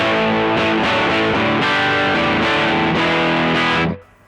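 Loud electric guitar through a Bogner Ecstasy Blue overdrive pedal plays sustained distorted chords for about four seconds, then cuts off abruptly into a faint ringing tail.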